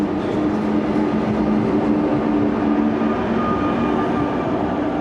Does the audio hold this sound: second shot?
no